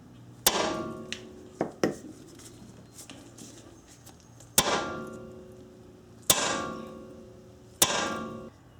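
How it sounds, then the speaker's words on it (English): A 4-pound hammer whacks a tie rod loose on a Nissan Maxima, each hit a loud, sharp metallic clang with a ringing decay: several blows spaced across the clip, some close together, with no talking. "Again, I'm using a 4-pound hammer here"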